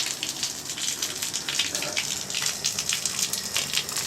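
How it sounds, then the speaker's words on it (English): Water runs steadily from a tap, a continuous hissing gush filling the whole stretch at moderate loudness with no break. "Water is running."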